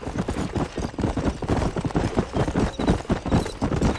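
Horse hooves clip-clopping in Red Dead Redemption, a rapid, continuous trotting rhythm of close, loud hoofbeats throughout with no break.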